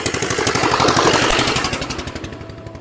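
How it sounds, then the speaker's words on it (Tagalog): A tractor pulling a trailer runs nearby. Its engine chugs in a rough, rapid, knocking rhythm, loud at first and slowly fading as it moves away. "May traktora pa, may trailer pa. Kaya medyo maingay, guys."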